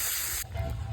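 Egg dropped into a hot pan of onion, garlic, tomato and chilli in reused boiling water, giving a steady close spray-like sizzle that softens and bubbles partway through.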